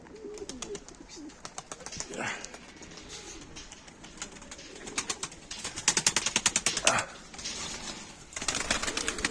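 Pigeons coo repeatedly nearby amid a busy flock in Mardin, Turkey, with bursts of wing flapping and scattered chirps over outdoor background noise.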